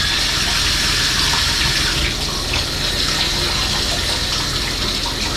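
Steady running water from a hotel bathroom tap, a continuous even hiss and splash close by with no voices.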